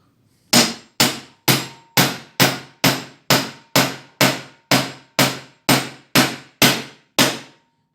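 Nails are hammered into the handle of a wooden Viking shield on a workbench: about fifteen sharp, evenly spaced hammer blows, loud and close, each with a short ringing decay and no talking.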